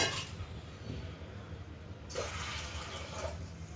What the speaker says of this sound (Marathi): आणि आता इथे पाणी टाकून घ्यायचे एक दीड गल्लास